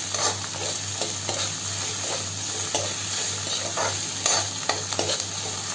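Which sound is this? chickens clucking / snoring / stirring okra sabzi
stirring okra sabzi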